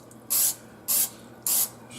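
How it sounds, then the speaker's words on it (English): Canola oil sprayed in three short hissing bursts onto a white Teflon pan, each lasting about a quarter second with brief pauses between, close and fairly loud. "spray a bit of, what is it, canola oil on the pan so the stuff doesn't stick"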